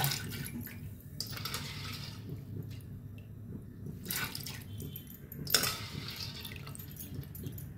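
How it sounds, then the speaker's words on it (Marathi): Masoor lentils are tipped into water inside a pressure cooker. The result is quiet, soft wet patters and brief splashy bursts near the pot, heard alone without talk. "आतां हेतून मसूर घालून घेता."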